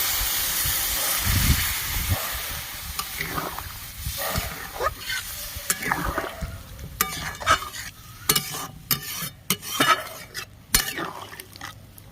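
Water poured into a thin Bengali fish curry of rohu fingerlings and summer vegetables as it simmers in a pan, bringing loud sizzling, bubbling and hissing steam with stirring and clinks of a utensil against the pan, and no talk.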